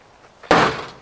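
A Mordhau-style weapon strikes a thin steel car door once, a sudden loud metallic crash that rings briefly and fades over under a second, alone.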